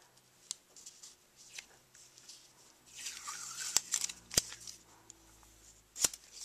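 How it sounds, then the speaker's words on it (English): Scissors cutting a 6x6 section from a sheet of paper for a card-embossing craft, with soft rustling, a longer slicing stretch, and a few sharp clicks as the blades close, close and fairly quiet, no speech. "so this is going to be a 6x6 section, so I'm just going to go ahead and cut it right there."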